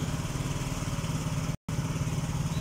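A Yamaha Mio J scooter engine fires up and settles into a steady, fast-pulsing idle close by, with a brief dropout partway through.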